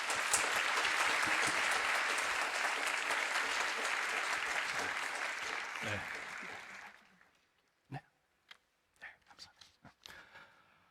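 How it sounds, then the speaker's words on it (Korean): Vigorous congregational applause welcoming a guest pastor at a church revival service, a loud, sustained wall of clapping for about seven seconds that dies away into scattered sounds and a few spoken words. "강사 목사님 나오실 때 힘찬 박수로 환영하며 맞이하겠습니다"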